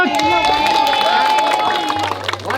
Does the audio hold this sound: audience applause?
yes